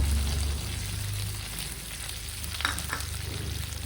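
Stuffed brinjal coated in garlic chili spice powder sizzles steadily in a pan over low flame, a constant frying hiss with a few soft stirring clicks and a low hum beneath.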